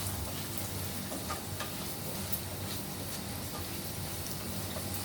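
Duck pieces sautéing in hot cooking oil in a pan, a steady dense sizzle with faint stirring clicks, continuous and close with no talking.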